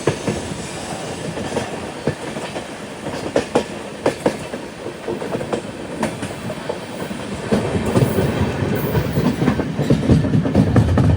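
A weekly Ernakulam to Velankanni express sleeper train runs steadily, with a continuous rumble and rhythmic clickety-clack of wheels on the rails that grows slightly louder toward the end, heard from inside the carriage with no talking.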